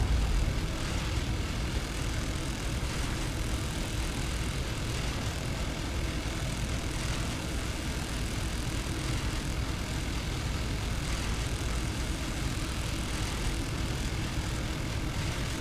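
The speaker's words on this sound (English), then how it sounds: "Kind of hear the engine's not liking me pushing it so hard." A spaceship engine in the game Star Citizen strains under heavy throttle, a steady dense roar like an aircraft engine that holds loud and unbroken the whole time.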